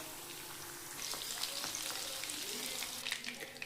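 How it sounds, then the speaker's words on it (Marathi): Chicken tikka pieces sizzle in hot oil in a home kitchen, the frying starting quieter then swelling into a steady crackle with sharp popping spatters toward the end. "आता टिक्का टाकूया। मस्त फ्राय होत आहे।"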